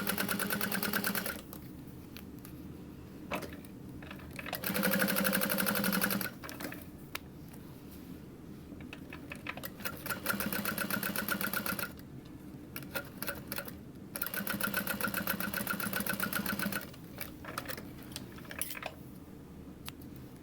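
A sewing machine top stitches leather straps for D-ring connectors on a leather convertible backpack, running in several steady bursts of rapid stitching with quiet pauses between them.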